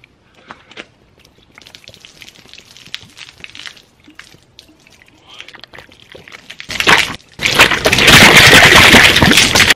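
Liquid such as Coca-Cola, water or Gatorade is poured onto a stain-resistant T-shirt, first faint scattered drips and trickles, then a loud rushing splash of steady pouring near the end.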